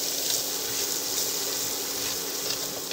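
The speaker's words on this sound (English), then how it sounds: "So now we're going to toss in our vegetables. And we're going to saute that around for a couple of minutes" Vegetables sautéing in a pan with pork fat and olive oil for osso buco, a steady, loud, even sizzle throughout with no talk.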